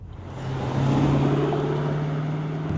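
A Camaro SS with a V8 engine driving on a twisty, tight road, its engine a steady, loud droning hum that swells within the first second and then holds even, with no voices.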